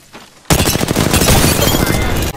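Loud, sustained burst of rapid automatic gunfire in the video game Apex Legends, starting abruptly after a quiet moment and continuing densely for about two seconds, close and harsh.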